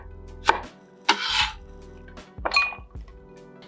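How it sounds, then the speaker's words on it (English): A knife chops through a washed, peeled carrot on a cutting board to make matchsticks, giving three or four crisp, close, separate cuts with sharp knocks against the board. "Take 1 carrot, wash it, peel it, and cut it into matchsticks."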